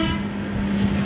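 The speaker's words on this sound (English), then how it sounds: "and you'd have an awesomely loud horn." A loud aftermarket dual-trumpet air horn on a car blasts in one continuous, steady honk with a strong two-tone drone filling the whole second, close and alone.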